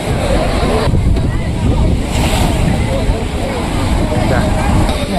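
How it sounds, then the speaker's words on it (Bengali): Heavy sea surf pounds the shore at Old Digha near Mohana, a steady, loud roar of breaking waves mixed with wind buffeting the microphone, continuous throughout with no pause. "ঢেউ আসছে জোরে জোরে"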